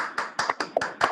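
Sparse, close clapping during a Zoom webinar, with about six distinct sharp claps at uneven intervals, sounding like a single person or a few people clapping near a microphone.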